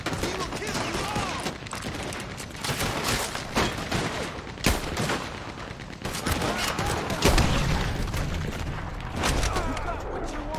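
Rapid gunfire in Red Dead Redemption 2, sharp repeated shots and heavier bursts in a busy battle barrage, with shouted voices mixed in.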